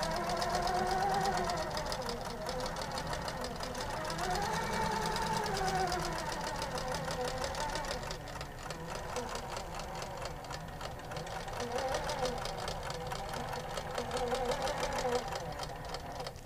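Quilting machine on a small quilting frame stitching a long straight basting line across a large quilt: a steady, close mechanical whir and rapid needle chatter running throughout with little change.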